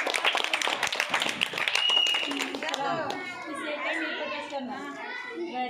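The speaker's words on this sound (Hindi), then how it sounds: "हाँ हाँ तालियां बजाओ" Young first-grade children clap their hands at a school welcome, a rapid scattered patter at first, then giving way to overlapping children's voices and an adult talking as the clapping thins out.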